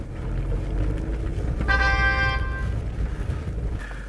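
A car navigation device plays a short tonal arrival fanfare after reaching the destination, a single bright chiming phrase about a second long over steady road and engine rumble.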